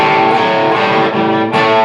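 Distorted electric guitar playing a short half-measure of a riff, loud and close, with choppy muted and open chords in a quick rhythm, alone without talk.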